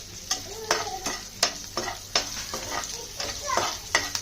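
Chopped garlic fries in hot oil for a savory rice dish, giving a steady sizzle broken by repeated sharp stirring scrapes and knocks of a spoon against the pan.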